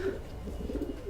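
A racing homing pigeon gives a soft, low cooing call close by, a brief murmuring coo with faint background noise.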